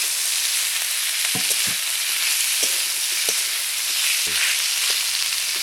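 Ingredients fry in a pan in a village kitchen and are stirred together under a loud, steady sizzle, with scattered scraping and clacking of a spoon close by.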